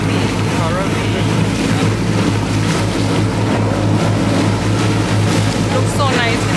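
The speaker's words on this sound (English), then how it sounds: "Now we are on the boat." A boat runs across the sea off Phuket on the way to Coral Beach, its engine a steady loud drone mixed with rushing water and wind, while people talk.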